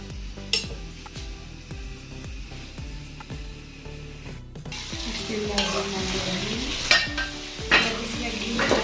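Ghee sizzling in a karahi pan with cooked chicken for karahi gosht, rhythmic stirring clanks of a utensil against metal at first, then a louder, fuller sizzle with scraping and clinks, close and without talk.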